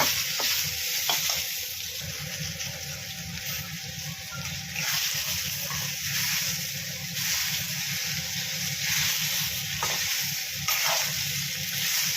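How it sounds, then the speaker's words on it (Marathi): Tomatoes and masala fry in oil for Kolhapuri tambda mutton rassa, giving a continuous wet bubbling sizzle with a few soft stirring taps. "तेलामध्ये व्यवस्थित परतत नाही तोपर्यंत हे सगळं आपण जे आहे ते भाजून घेऊया"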